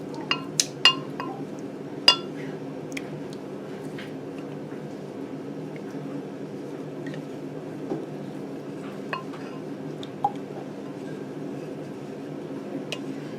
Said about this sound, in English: Scrape out anything that remains.